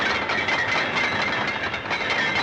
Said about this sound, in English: a sailor is below in a chain locker, rearranging the links as men up top direct the heavy chain downward